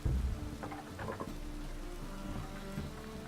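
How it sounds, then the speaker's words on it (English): Steady rainfall in the video game Witcher 3, a soft continuous hiss and patter of drops with a slightly heavier thump at the start, heard alone without talk. "It only ever rains these days."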